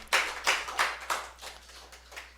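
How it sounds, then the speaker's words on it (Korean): A small church congregation gives a brief round of clapping in praise during a worship service, several uneven bursts of hand claps that fade over a couple of seconds, fairly close and with no talk over them. "우리를 끌어내 주신 하나님께 또 영광의 박수 드립니다"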